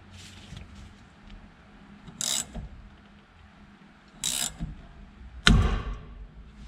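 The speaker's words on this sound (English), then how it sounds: "I'm just going to go nice and slow, hand tighten it, and get this thing to pop up" A puller is hand-tightened to pop the steering wheel off a 1967 Mustang, giving a few separate ratcheting clicks and rubbing bursts spaced a couple of seconds apart, close by and alone.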